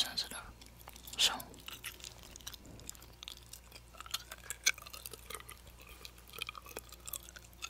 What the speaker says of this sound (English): As you can tell by the gum chewing, these microphones are very sensitive.